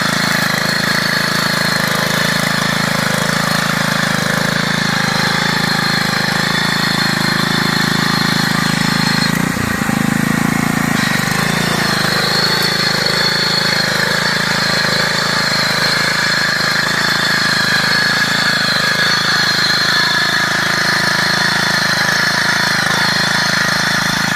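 A small power weeder engine runs steadily and loudly throughout while weeding a crop, a continuous droning hum with a brief dip and bump partway through, no talking.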